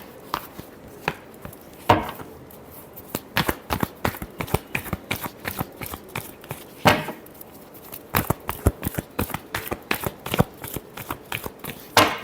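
Tarot cards shuffled close up over a long stretch, with sharp rhythmic slaps and riffles in quick irregular bursts, a few heavier smacks standing out, and no voice over them.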